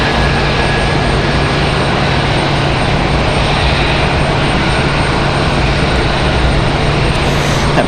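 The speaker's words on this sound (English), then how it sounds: "Beautiful shot of Breeze Airways getting out of here" A Breeze Airways airliner departs Raleigh-Durham International bound for Columbus, Ohio, a loud, constant engine roar holding steady throughout with a faint whine riding on top.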